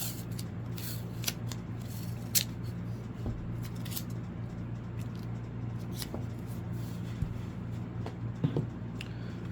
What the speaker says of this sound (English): I'm just going to use some masking tape. Tape the paper down.